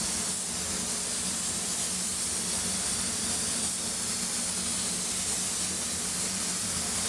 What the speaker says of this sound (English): I use the HVLP tip on this GDI Pro, and you want to go about a fist width away from the panel